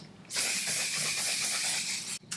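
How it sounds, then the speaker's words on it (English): A strong, steady aerosol hiss of makeup setting spray sprays for about two seconds, cuts off briefly, then starts again; close and loud, with no voices. "this is a very strong setting spray"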